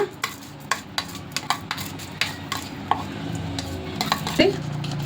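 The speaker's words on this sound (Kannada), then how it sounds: "ಇವಾಗ ಅಕ್ಕಿನೂ ಹಾಕ್ತೀನಿ" Rice, about one and a half cups, going into a pot for mushroom biryani in an electric cooker: a string of sharp scraping and clinking knocks of a utensil against the vessel, close and fairly loud, with no talking.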